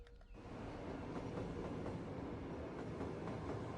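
Steady low rumble and rolling clatter of subway trains in the city-building game Cities: Skylines, running on two underground levels at a large square station, continuous and fairly loud throughout.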